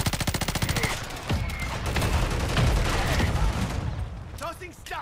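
Rapid automatic gunfire in Call of Duty, a loud fast burst up front giving way to dense overlapping shots and explosions of battle with voices mixed in throughout.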